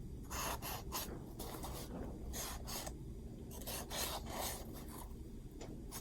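A pen draws across a paper pumpkin with steady scratchy rubbing strokes in short repeated bursts, close and alone with no talking.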